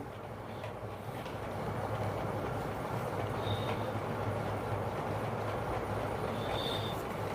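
Inside the Araku train at high speed, a steady loud rumble of wheels and carriage roar fills the air continuously, with faint high squeals briefly rising twice.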